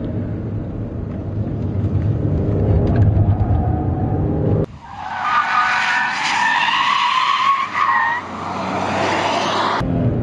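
A Porsche Panamera S Hybrid's tyres lose grip on a mountain road, a low engine rumble giving way to a loud, sustained tyre squeal and skid that wavers for several seconds before cutting off.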